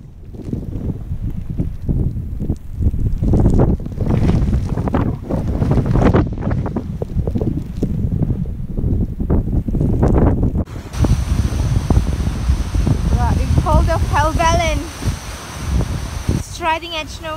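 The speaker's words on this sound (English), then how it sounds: "It's too windy and it's wet." Strong wind batters a wild camp beside Stickle Tarn in the Lake District in wet weather, a loud rushing roar with buffeting gusts against the microphone, while a person talks over it.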